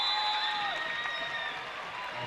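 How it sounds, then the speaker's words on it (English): Crowd applause at a high school boys' basketball game between Corbin and South Laurel in London, Kentucky, a soft, distant clapping beneath gym noise and faint tonal whistles, fading slightly toward the end. "he'll get a nice round of applause as he heads to the South Laurel bench"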